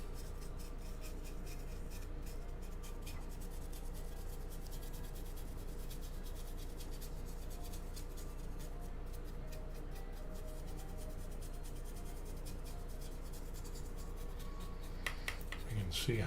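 Soft, steady scratchy rubbing of a paint brush dry brushing a 3D-printed Warhammer miniature's hammer, close and faint, with a brief louder scrape near the end.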